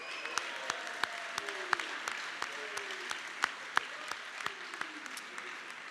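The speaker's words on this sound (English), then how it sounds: "just a quick round of applause" Steady applause from a sizable crowd at a college sports awards ceremony, with many overlapping claps and a few sharp louder ones throughout.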